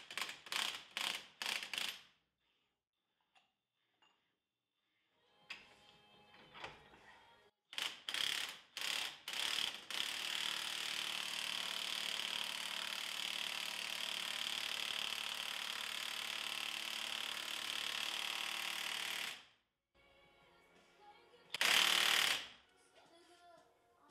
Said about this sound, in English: So right here, I'm pressing in the new ball joints.